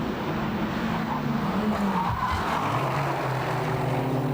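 Rover Turbo Cup race cars roar around the Spa circuit in 1995, engines droning and shifting pitch as they pass in close company, with a brief tire squeal amid the sustained motor noise.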